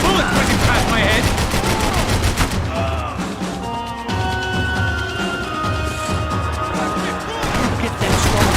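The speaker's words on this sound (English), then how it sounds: "I can't concentrate with bullets whizzing past my head." Heavy, continuous gunfire in the video game Max Payne 3, with dense automatic bursts and crashing impacts filling the whole stretch, loud and close, and game voices heard briefly amid the shooting.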